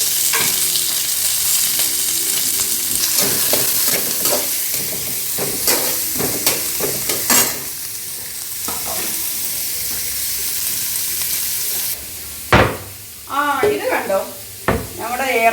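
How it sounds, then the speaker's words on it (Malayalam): Onion, green chili and curry leaves fry in a pan with a steady loud sizzle and occasional stirring scrapes; near the end the frying drops out and a voice talks briefly over it. "ഉള്ളി പച്ചമുളക് കറിവേപ്പില ഇട്ടിട്ടുണ്ട്"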